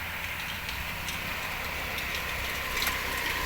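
A budget mini tractor engine runs at a steady mid-pitched idle with a faint ticking rhythm, near and continuous, with no voices over it.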